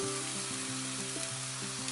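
Ginger sizzling in a little oil in a pan, a steady close frying hiss alone with no talk, broken by a few faint tonal pings.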